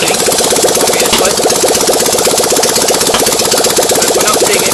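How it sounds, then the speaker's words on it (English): A car engine runs steadily after its engine mount was rewelded, a loud, close, continuous rumble with a fast even rhythmic pulse and no talking. "can see that the engine is actually running"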